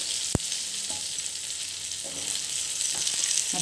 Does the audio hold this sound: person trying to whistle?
no